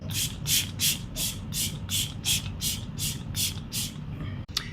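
Rapid bursts of a fine mist from a makeup setting spray, about a dozen quick hisses in a steady rhythm, close and fairly loud.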